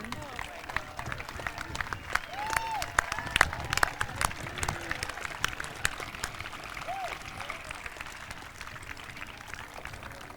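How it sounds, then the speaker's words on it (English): Audience at a high school class of 2017 graduation applauding in a large hall, scattered hand claps and some cheering over crowd murmur and background voices, moderately loud and uneven. "Let's give them one more round of applause."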